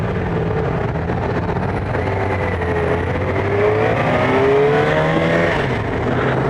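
A Yamaha FJ-6R motorcycle accelerates on a demo ride, its engine droning loud and close with the pitch climbing and surging midway, steady road and wind noise underneath.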